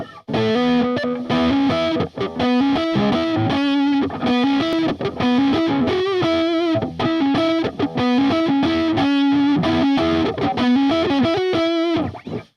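Distorted electric guitar in a brown-tone metal style, played loud and continuous with chugging riffs and bright harmonic-rich lead lines, no voices.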